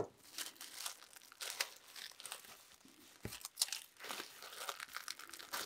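Scissors or a blade cut open the paper and plastic wrapping of a planner subscription package, a faint crinkling, tearing rustle with a few sharper snips, close and quiet, with no talk.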